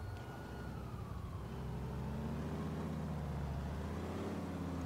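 Ambulance siren in GTA IV, a steady wailing tone rising and falling over a continuous loud engine and traffic drone, heard close and without a break.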